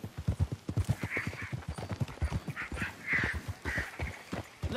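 Horses plod along in Red Dead Redemption 2, their hooves clip-clopping in a steady, close rhythm that sounds like several animals moving at a walk, with no talk over it.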